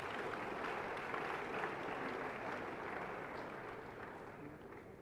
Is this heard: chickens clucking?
no